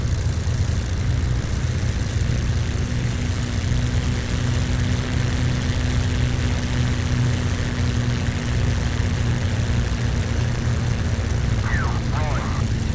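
A warbird propeller aircraft in the DCS flight game rolls for takeoff with a steady, loud, unbroken engine drone, and faint voices may sit underneath.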